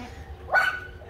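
A single short, close bark from a dog over a quiet background, heard alone.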